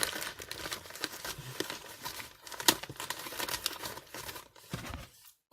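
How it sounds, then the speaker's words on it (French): A large paper envelope is torn and pulled open, with a close, quiet run of crinkling, ripping and rustling paper in short irregular bursts, ending in a brief silence. "Alors ensuite on va ouvrir la grande enveloppe."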